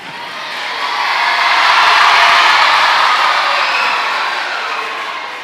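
An audience at a Tamil debate show cheers and applauds loudly and steadily, a dense wash of clapping that swells and then eases slightly, with no talk over it.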